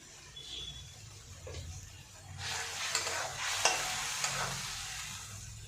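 Pabda fish with tomato, salt and turmeric stirred in a pan, a soft sizzle rising into louder scraping and spoon clinks partway through, close by with no talk.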